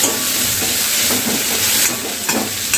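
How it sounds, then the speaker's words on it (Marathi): Chopped tomato frying in hot oil in a pan, a loud continuous close sizzle and hiss with a few faint stirring scrapes throughout. "त्याला पण चांगला असं तेलामध्ये फ्राय करून घेऊया"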